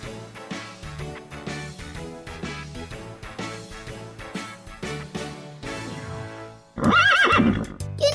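Rhythmic hoofbeats clop along over plodding game-style sounds in a Daniel Tiger's Neighborhood game, then a horse gives a loud, shrill neigh near the end.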